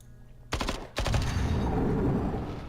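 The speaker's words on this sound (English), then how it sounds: "let's get everybody firing here first before we do anything else" Gunfire in the video game Templar Battleforce: two abrupt blasts half a second apart open into a sustained, rattling volley that stays loud to the end.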